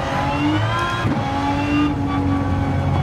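Aston Martin Vulcan in Gran Turismo 7, heard on board: a loud, sustained high-revving engine roar with a steady harmonic whine, holding pitch with slight dips as if shifting.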